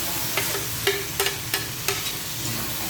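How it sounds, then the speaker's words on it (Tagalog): Onion, tomato, garlic and kamias sauté in a pan, a soft sizzle under a run of sharp spoon scrapes and taps about every half second, close and alone. "Ayan, igigisa muna natin yan guys."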